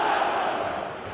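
Stadium crowd in the eFootball 2026 video game, a loud, sustained roar of massed voices that fades slightly over about a second, with no commentary over it.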